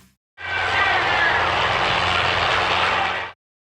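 A helicopter roars steadily overhead above a football stadium field, a loud, broad rotor and engine wash that starts abruptly and cuts off after about three seconds.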